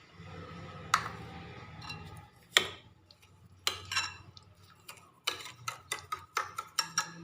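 A spoon adds about three spoonfuls of sugar to a lassi made with curd, giving a series of light, close clinks and taps against the vessel. The taps are scattered at first, then come in a quicker run near the end, with no talking.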